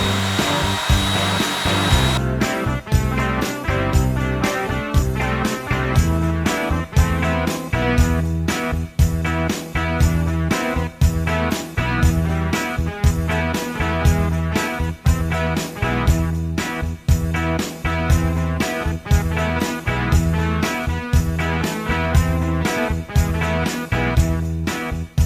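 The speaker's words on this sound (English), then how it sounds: "Now I just need to round over each piece with an 1/8 inch radius roundover bit." Router fitted with a 1/8 inch roundover bit shaping the edges of wooden pieces, a continuous loud high motor whine with rhythmic cutting pulses, running alone for the whole stretch.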